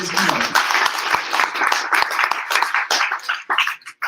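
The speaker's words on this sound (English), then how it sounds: "Let's make a big applause for Peter." An audience at a startup founders' event applauds, a close, lively burst of many hands clapping that thins out and fades near the end.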